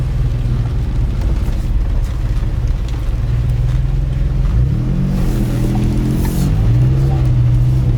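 An old car left parked for years runs while driving, its engine holding a deep, steady rumble before revving up and down in a rising and falling sweep, then settling again.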